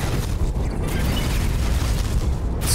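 Explosion in the space game X4 Foundations, a dense sustained rumbling blast with crackling bursts, loud and close throughout.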